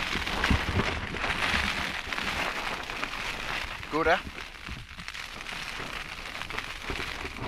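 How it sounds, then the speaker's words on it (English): Rain drums on a tent during a wild stormy camp in the Cheviot hills, a dense, constant patter close by, with someone speaking briefly over it and a short rising sound partway through. "The rain's not coming in"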